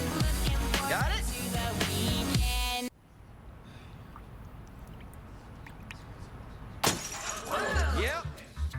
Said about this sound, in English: I just broke a glass for no apparent reason.